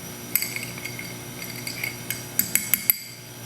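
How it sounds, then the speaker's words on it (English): A bar spoon stirring a cocktail of Demerara sugar syrup, warm water and barrel-aged bitters in a glass, a soft swirl of light clinks that ends with several crisp, close ringing taps. "Give it a stir with a bar spoon."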